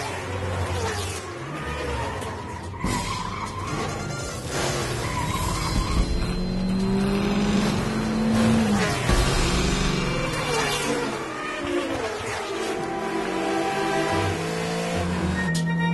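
Animated race cars lapping on badly worn tires, engines roaring and tires squealing and skidding in repeated bursts, loud and close, layered with music.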